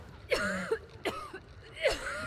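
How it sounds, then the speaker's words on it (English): A player character coughing in the video game Hunt: Showdown, sounding as a few short, rough coughs and throat-clearing bursts spaced across about two seconds, fairly quiet, with no talk over them. "Stop coughing! Stop coughing!"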